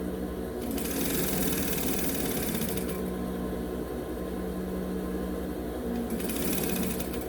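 A domestic sewing machine stitching fabric with its presser foot, running in a steady close whir that stops briefly and resumes, with no voice over it.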